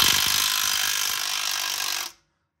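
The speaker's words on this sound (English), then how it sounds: "Put an impact on it or a wrench" An impact wrench loosens a rear control arm nut on a Lexus/Toyota, giving a loud, continuous hammering whir for about two seconds before cutting off abruptly into silence.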